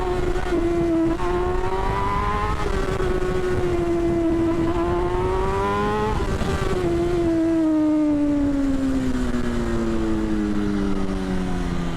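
MV Agusta Brutale 1000RR motorcycle engine heard close up on a demo ride, holding a steady loud drone while its pitch rises and falls through several rev changes for the whole stretch.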